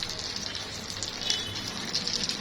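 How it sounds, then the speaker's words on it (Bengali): Hot oil poured onto chili to make chili oil sizzles and crackles steadily, a continuous bright hiss with small pops, close and fairly quiet, with no voices. "এই যে তেল দেওয়ার পরে ফুটে উঠছে একা একাই"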